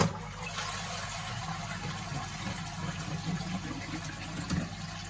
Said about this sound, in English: Just give one last flush.